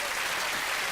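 Audience applause at a 1997 UK Sooty stage show, a dense, steady wash of clapping filling the whole brief moment with no break.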